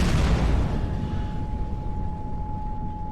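A loud explosion in a shopping mall in the video game Mirror's Edge Catalyst, its deep booming roar slowly decaying into a rumbling tail, with a thin steady ringing tone sustained above it.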